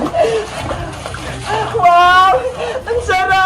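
A child splashes into a backyard pool filled to the brim, with a burst of water splashing amid loud, excited voices and squeals.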